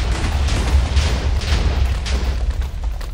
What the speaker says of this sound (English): Huge explosion happening.